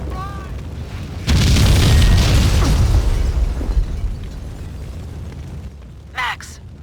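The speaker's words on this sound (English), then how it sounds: "The building's blowing up." A building blows up in the game Max Payne: a sudden heavy boom after a brief quiet voice, then a long rumbling roar of debris that slowly fades, with a short sharp burst near the end.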